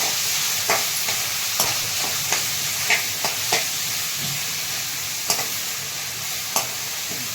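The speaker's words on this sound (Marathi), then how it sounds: "थोडीशी मोहरी टाकून घ्यायची, छान असा लालसर होऊन द्यायचा कांदा." Onion frying with mustard seeds in a pan, a steady bright sizzle throughout with scattered sharp pops and spatula scrapes, close and alone with no talking.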